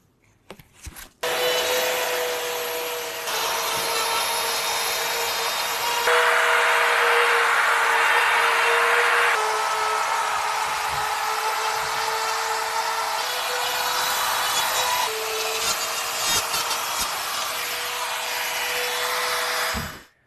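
A Bosch rotary cutout tool cuts through drywall with a loud, steady high-pitched whine and grinding rasp, running continuously for about twenty seconds after a brief startup with no talking.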